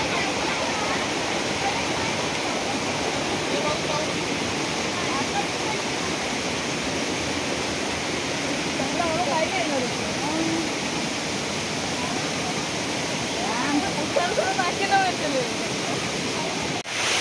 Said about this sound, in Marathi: हा सोनवडे गावचा धबधबा आहे.